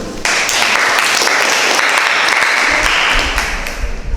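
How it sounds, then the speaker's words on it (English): An audience at a school English debate claps loudly after a speaker, a thick burst of many hands that starts abruptly and holds steady before tapering slightly. "Let's give applause for him."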